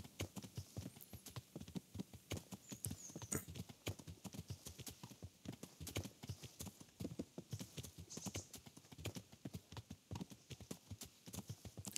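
Steady, rhythmic clip-clop of horse hooves at speed in the video game Kingdom Come Deliverance, continuous and close with a few faint game effects above.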